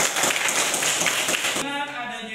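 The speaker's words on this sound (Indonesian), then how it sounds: "Oke, tepuk tangan untuk Sandy." Classroom applause for a student named Sandy, a burst of many hands clapping quickly for about a second and a half before it gives way to a voice.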